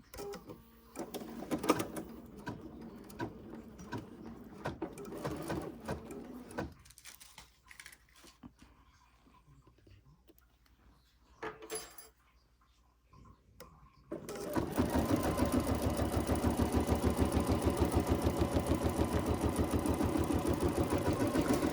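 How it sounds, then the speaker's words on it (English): An embroidery machine stitching a notebook cover in the hoop, first with irregular clicks and rattles, then a quiet pause, then a loud, steady, rapid stitching hum that continues to the end. "So it's just going to do a tack down. And then it's going to go around and do its really pretty stitching."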